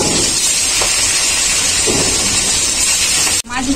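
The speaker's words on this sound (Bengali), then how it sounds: "বাকি মাছগুলো আমি একইভাবে ভেজে নেব।" Rohu fish frying in hot mustard oil gives a loud, continuous hiss and crackle close by that cuts off abruptly near the end.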